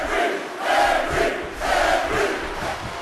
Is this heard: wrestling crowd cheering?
yes